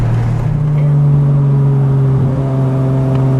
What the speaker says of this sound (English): So I'm hitting the paddle shifters to maintain, you know, a nice healthy RPM, so we have both the torque and acceleration capabilities